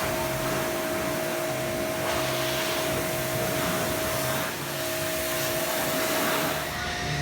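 A new car gets its initial water rinse before foaming: a continuous loud hiss of a pressure-washer spray, steady and close throughout with a constant motor whine underneath, with no talk.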